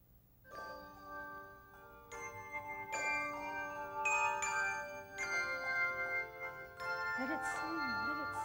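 Handbells ring one after another in a slow sequence, each strike leaving a bright sustained tone that overlaps the next.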